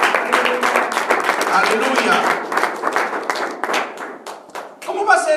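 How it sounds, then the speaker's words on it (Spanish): A church congregation claps rhythmically during a sermon, sharp repeated hand claps with a voice calling out over them and a burst of speech at the end. "Dale más fuerte ese aplauso al Señor."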